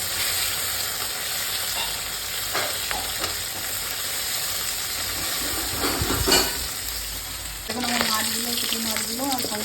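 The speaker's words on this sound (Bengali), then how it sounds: "বাকি পুঁটি মাছগুলো আছে সেগুলো ভেজে নেবো" Puti fish fry in hot oil in a pan, a steady close sizzle throughout, with a few clinks of utensils and a louder bubbling burst of frying near the end.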